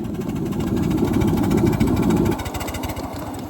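A steam locomotive whose fire goes out completely after more fuel is added: a steady loud rumbling roar that drops abruptly partway through into a quieter, pulsing chug.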